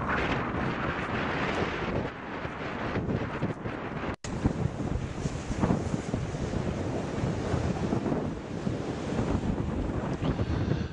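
Surf and wind at Scarfskerry Beach in Caithness: continuous breaking waves and gusty wind buffeting the microphone, loud and close, with a brief dropout midway.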